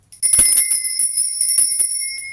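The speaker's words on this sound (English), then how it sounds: "Now, I'm going to be ringing this lovely lady bell. This is just to cleanse the air around us." A small hand bell rung once to cleanse the air, a bright clear ring with a lingering, slowly fading tone heard close and alone.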